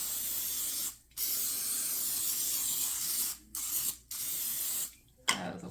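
Cooking spray hissing onto a waffle stick in bursts, several long, close sprays broken by short pauses, with a final brief spritz and clatter.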